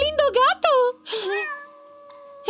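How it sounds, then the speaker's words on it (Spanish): A cat meows a couple of times in quick succession, close and clear, followed by a long drawn-out meow with a child-like voice mixed in. "¡Oh, qué lindo gato!"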